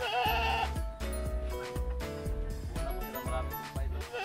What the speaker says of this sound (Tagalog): Kinakarga na po ni Bonnie Boy ang ating mga kambing.